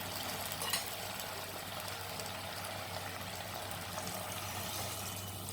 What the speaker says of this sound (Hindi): तो अब इसमें हम डालेंगे पानी।